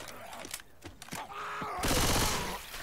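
Bursts of gunfire in Left 4 Dead 2, a dense volley of rapid shots building near the end, mixed with other game sounds and a speaking voice.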